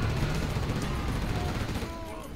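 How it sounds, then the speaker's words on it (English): Gatling guns in Command & Conquer: Generals fire in a dense, continuous rattling burst, loud and sustained with overlapping battle noise, tapering slightly toward the end. "We've got enough Gatling weapons here."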